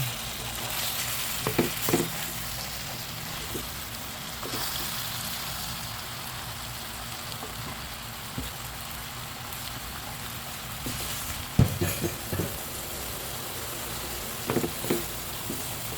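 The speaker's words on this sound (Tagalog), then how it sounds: "Haluin muna natin." Pakbet vegetables fry in a pan with a soft, steady sizzle while a spoon stirs them, scraping and knocking against the pan now and then.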